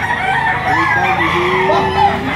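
A rooster about eleven months old, offered for sale, crows and clucks steadily across the clip, fairly loud and close against a busy background.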